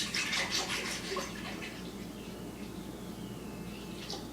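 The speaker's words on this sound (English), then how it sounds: "So let me pour that in there" Almond milk is poured into a blender, giving a steady splashing, trickling stream that starts fuller and settles into a continuous soft pour, close and alone without talk.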